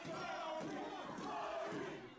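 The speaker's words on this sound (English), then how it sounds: "And the crowd's just chatting his name behind him." Wrestling crowd at a PWA hair vs hair match chanting a wrestler's name, a dense continuous roar of many voices filling the arena at steady loudness throughout.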